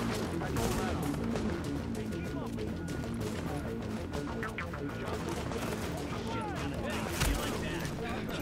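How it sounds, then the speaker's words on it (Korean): Gunfire in the video game The Division, played in its Xbox One beta, crackles in repeated bursts and volleys with a sharp crack near the end, while a voice talks over the shooting. "누가 나한테 쏘는 거야 이거?"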